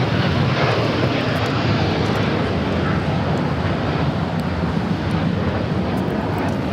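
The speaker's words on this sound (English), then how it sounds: "This is United Airlines Flight 32, taking off to Tokyo Narita on the 787-9 Dreamliner" A United Airlines Boeing 787-9 Dreamliner takes off on a flight to Tokyo Narita, its engines a loud, steady roar with a broad rushing wash that holds throughout.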